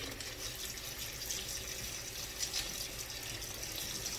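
Water running steadily from a sink tap in a home kitchen while shrimp scampi is being made, a continuous faint splashing gush with no talk over it.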